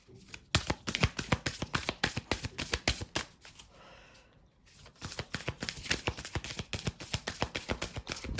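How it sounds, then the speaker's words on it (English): A deck of oracle cards is shuffled in repeated quick riffling bursts of crisp papery slaps, close and steady, with a short quieter pause midway before the shuffling resumes. "one more shuffle."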